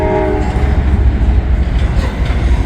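Freight train rumbling past near Cincinnati Union Terminal, hauling a string of empty cars: a steady, loud low roar with a brief horn-like tone early on, continuous throughout with no voices.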